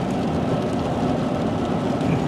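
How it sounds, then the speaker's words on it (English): Heavy, steady rain while driving, a dense continuous wash of drops and road noise that stays loud and even throughout with no pauses. "It was just pouring the rain,"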